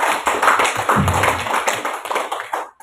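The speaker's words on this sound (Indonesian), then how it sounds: "Mari kita tepuk tangan dulu untuk kita semua." An audience at a school community gathering claps together in a loud, dense burst of close hand claps. The clapping stays strong for a couple of seconds, then tapers and stops abruptly.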